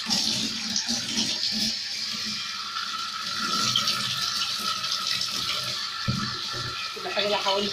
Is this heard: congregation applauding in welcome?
no